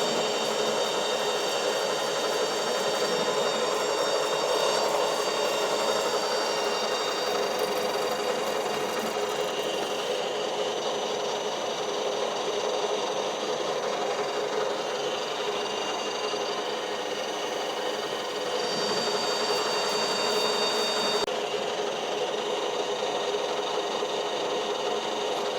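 A Jones & Shipman 540 lathe turns new hubs with a CNMG insert, giving a loud, steady machine whir and hum that drones throughout without a break.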